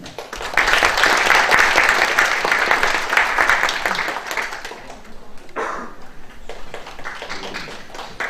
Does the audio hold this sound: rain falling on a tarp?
no